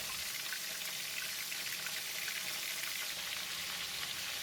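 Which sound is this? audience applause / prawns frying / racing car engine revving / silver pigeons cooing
prawns frying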